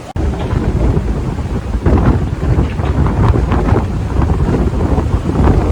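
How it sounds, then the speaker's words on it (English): Strong wind buffets the open deck of a Disney Fantasy cruise ship, a loud continuous rumbling roar with gusting surges against the microphone, no speech. "It's a bit breezy."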